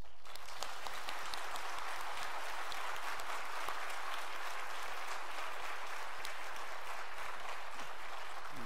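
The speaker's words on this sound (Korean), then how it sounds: "전 목사님께 참 축하와 감사의 박수 좀 보내십시오" A church congregation applauds, a broad, sustained wash of many hands clapping that fills the room evenly and steadily from start to finish with no speech over it.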